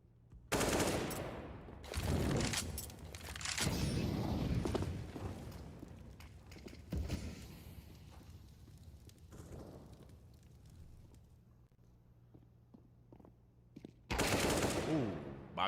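Gunfire from a CS:GO esports match rattles in several bursts, loud sharp volleys that stop and start with quieter gaps of faint game sounds between them, with brief casting voices underneath.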